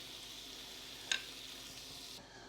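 Bacon browning in a pan for Dublin coddle sizzles steadily and close up, a dense crackling hiss with a single sharper pop midway, then the sizzle fades slightly toward the end, with no voices.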